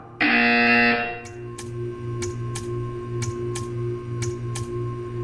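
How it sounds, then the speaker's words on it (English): A loud, steady electronic buzzer sounds in the video game Portal for just under a second, then cuts off, followed by a run of sharp, evenly spaced ticks over a low, constant hum. "You will hear a buzzer."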